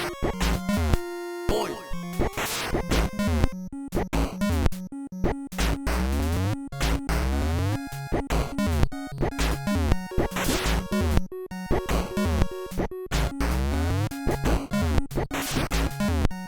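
Fast chiptune theme music from a NES fighting game, loud and continuous, with bright square-wave melody lines over a pulsing bass and busy percussion noise, played alone without talk.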